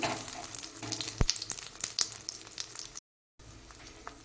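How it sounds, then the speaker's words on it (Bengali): An egg omelette fries in a pan with a steady, close sizzle and a few sharp pops and clicks, cut by a brief silent gap near the end before the sizzle resumes more quietly. "এক সাইড ভাজা হচ্ছে দেখুন, আর বুঝতেই পারছেন কতটা ফ্লাফি হয়েছে।"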